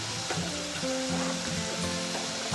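Chicken curry masala for a kilo of chicken, with ground coriander and pepper, sizzles and fries steadily in a pan, a continuous close hiss with faint stirring scrapes.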